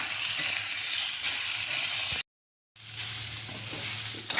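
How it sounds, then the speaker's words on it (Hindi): Aloo arbi (potato and taro) curry with turmeric, chili powder and salt sizzles steadily in a pan over a low flame as it is stirred, broken by a brief silent gap before the hiss resumes. "सब्जी को 2 मिनट तक इसी तरह से मिलाते रहें।"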